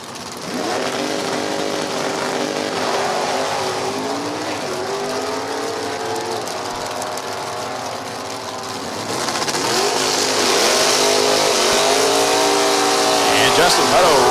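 A stick-shift 1969 Camaro F stock car drag racing at No Problem Raceway in an NHRA Division 4 event, engine roaring and climbing through rising revs with gear changes, loud and close, under a commentator's voice.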